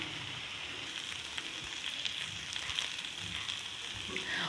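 Chicken frying in a pan for a chicken bun paratha filling, a soft steady sizzle with faint crackles throughout, fairly quiet and with no talking.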